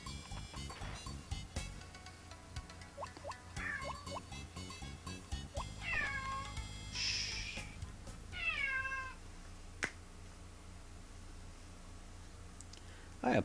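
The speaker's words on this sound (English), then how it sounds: "I apologize for the sound that my cat is making." A pet cat named Axel meows repeatedly in several drawn-out, wavering cries at moderate distance, mixed with clicks and faint background game sounds.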